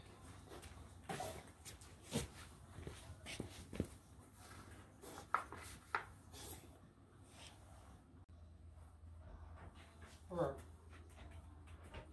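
Short, faint whimpers and snuffling from a dog come and go during a toilet paper challenge indoors, with scattered movement noises and occasional voices nearby.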